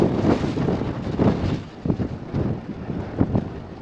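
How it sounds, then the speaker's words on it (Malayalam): Cold wind buffets the microphone at a high mountain pass around 13,400 feet in Ladakh, with loud, rough gusts rising and falling throughout and no voices. "എന്താ തണുത്ത കാറ്റടിക്കണ്"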